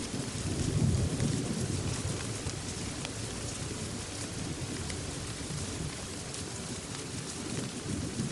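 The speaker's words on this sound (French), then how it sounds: "tu commences à entendre le grondement du tonnerre." Rolling thunder rumbles low and continuous through a heavy rainstorm, with dense rain hissing on surfaces and a swelling peak early on, steady and loud without voices.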